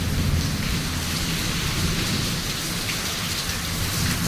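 A sudden heavy downpour with thunder and strong wind hammers down as a dense, steady roar of rain on surfaces, loud and close throughout, with a low thunder rumble underneath and no talking.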